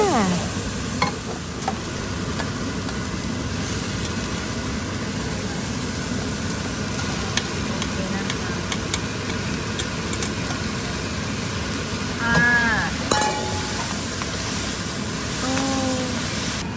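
Onion and Korean rice cakes (tteok) stir-fried in a pan for tteokbokki: a loud, continuous sizzle with spatula scraping and clinks growing busier toward the end, with no talking.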